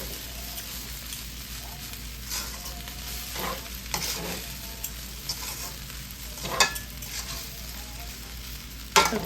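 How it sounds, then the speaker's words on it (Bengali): Sabudana khichuri stirred in a frying pan, a steady soft sizzle with occasional scraping strokes and light clinks from the utensil, close and moderately loud with no talking. "সবগুলোই দিয়ে দিচ্ছি সাবুদানা দিয়ে, আবার একটু নেড়ে দিচ্ছি।"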